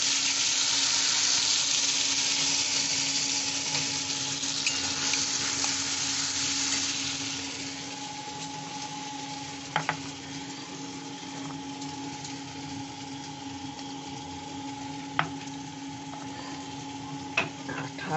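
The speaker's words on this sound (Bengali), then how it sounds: "পোস্ত বাটা দিয়ে একটু নেড়ে নিলাম" Flat beans with a mustard-poppy seed paste sizzle steadily in a frying pan and are stirred, giving a continuous close hiss that eases after a few seconds, with occasional sharp clicks of a utensil against the pan.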